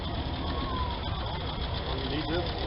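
A restored 1947 B.F. Avery Model A tractor engine idles steadily at a tractor show, a low rhythmic chugging rumble held beneath nearby people talking.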